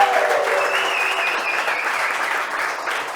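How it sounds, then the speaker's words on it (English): Audience applause in a cigar bar and lounge, a steady wash of clapping that fades slightly over a few seconds with no talking. "let's give a round of applause for the amazing staff of Ache Cigar Bar"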